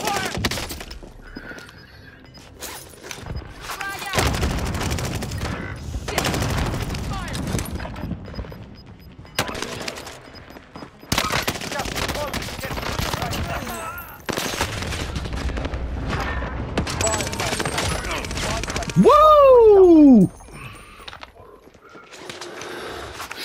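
Gunfire in Call of Duty: Modern Warfare, with loud automatic bursts and scattered shots that come and go across the clip, mixed with game effects and talking voices.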